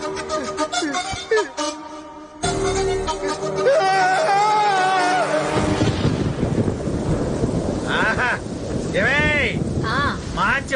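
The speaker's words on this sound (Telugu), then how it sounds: "వర్షం పడుతుంది" Heavy rain pours down with deep rumbling thunder, loud and steady after an opening passage of music, with gusts of wind buffeting the microphone.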